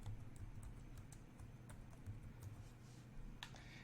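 Quiet computer keyboard typing in short irregular bursts of soft clicks, close by, with a low background hum and no talking.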